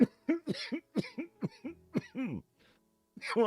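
A man's series of rough, close coughs and throat-clearing bursts, followed by a brief pause and more coughing, mixed with a few spoken words.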